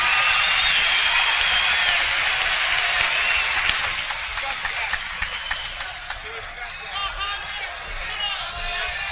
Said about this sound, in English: Another big round of applause for the greatest, Muhammad Ali.